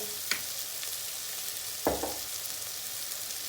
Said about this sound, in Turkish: Tam bu aşamada bir yemek kaşığı domates salçası atıyoruz.